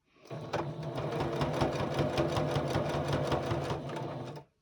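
A sewing machine stitches binding onto a quilted gingerbread star table topper, a fast steady mechanical whir with rapid needle clatter that starts, runs close and loud for about four seconds, then stops.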